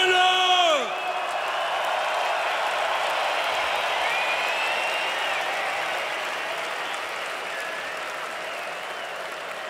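A large rock concert crowd at a show applauds and cheers for the keyboardist, a sustained roar of clapping with whoops and shouts, loud and steady after a brief musical flourish at the start.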